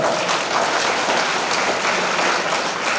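A large audience at a religious discourse claps loudly and continuously, a thick sustained burst of applause with no talk over it.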